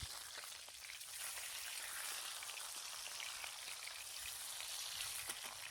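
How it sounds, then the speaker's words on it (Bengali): Tangra fish fry in hot oil in a covered pan, a soft, continuous sizzle and spatter heard from a distance, faint and steady with no talking. "আমি এইভাবে চাপা দিয়ে দিয়ে মাছটাকে ভেজে নেব"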